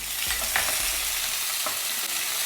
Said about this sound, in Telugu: ఇప్పుడు ఇవి దోరగా వేగనివ్వండి